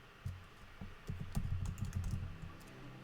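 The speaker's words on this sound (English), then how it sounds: "It's hard to type, huh?" Rapid, uneven keystrokes on a computer keyboard while coding a text editor in Rust, near and clear, with clustered clicks and short pauses and no voices.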